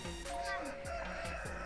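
A Tulak breed rooster crows close by, a brief strained call over background chatter and other birds.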